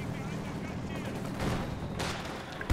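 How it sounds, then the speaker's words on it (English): Artillery shells and gunfire from a Wehrmacht versus Soviets battle in the video game Company of Heroes 2 rumble and crack in overlapping volleys, with heavier blasts swelling near the end over a constant battlefield din. "So now they're making a push on my side with artillery. A lot of artillery."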